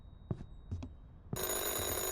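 Telephone in the Police Chief Simulator video game starts ringing after a few soft clicks and taps, a bright continuous electronic bell tone that holds steady and loud to the end.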